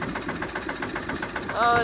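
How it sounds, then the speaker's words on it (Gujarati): A farm tractor engine runs with a steady knocking idle rhythm for sapling planting in a field, close and fairly loud, ending in a brief higher tonal whine. "હવે ટ્રેક્ટર ચાલુ કરી દીધું"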